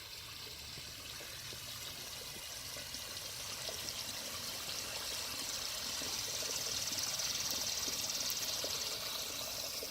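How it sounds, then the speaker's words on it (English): Small pondless waterfall tucked into a compact backyard garden beside a fire pit, built with serpentine boulders and LED lighting; water splashes and trickles in a steady broadband wash that grows slightly louder, with no voices. "This is a perfect example of how we fit a small pondless waterfall into a nice small space of the garden."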